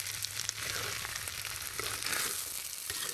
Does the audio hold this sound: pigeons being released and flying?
no